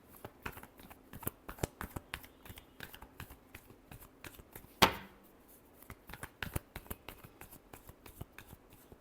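Tarot cards are shuffled close up in a string of quick, crisp riffles and flicks, with one sharper snap near the middle, all fairly soft and with no talking.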